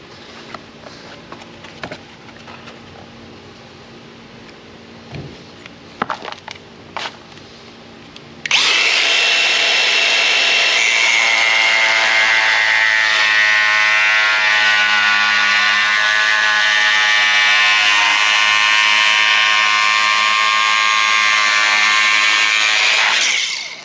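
A power tool cuts into a Toyota 4Runner to clear 285 tires, starting with scattered clicks and clanks, then a loud, continuous high whine that holds steady for about fifteen seconds before stopping.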